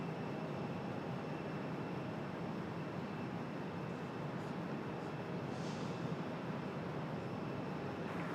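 A Cessna Citation business jet arriving at Raleigh-Durham International Airport makes a faint, steady, broadband jet rush that stays even from start to finish, distant and alone without talk.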